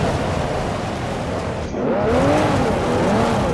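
Tires squeal as the Mercedes-Benz CL65 AMG oversteers through a corner in Forza Motorsport 4, a loud sustained screech rising and wavering over steady engine roar.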